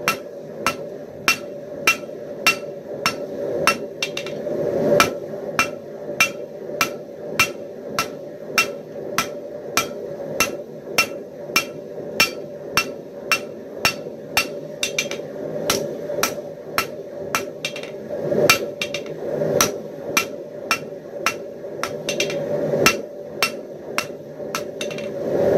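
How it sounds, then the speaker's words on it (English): Steel herb cutter blade being forged, hammered over the edge of an anvil to work a taper, ringing blows in a steady, fast rhythm throughout, close and loud, with no voices. "So now I'll be working that high spot over the edge of my anvil, working on that taper there."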